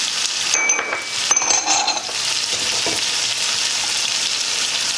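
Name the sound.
sweet peppers frying in a pan for ackee and saltfish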